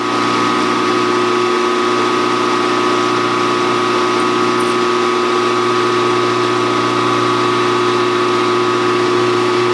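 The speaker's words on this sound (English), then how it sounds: "Now we can drill the hole." Steady mechanical whir of a drill boring a hole in a metal cylinder block, running continuously with a constant hum and tonal drone, no pauses, fairly loud and close.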